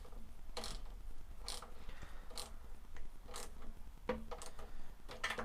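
Tightening the handlebar bolts on a 49cc PS50 pocket bike from Nitro Motor, heard as repeated close mechanical clicks and creaks from a tool working in short ratcheting strokes.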